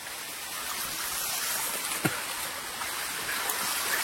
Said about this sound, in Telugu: వాటర్ ఫాల్ లాగా ఏర్పడిందండి కింద చూడండి.